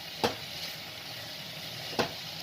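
Chicken sizzles steadily in a hot pan, broken by two distinct scraping strokes of a spatula as it is stirred, one early and one near the end.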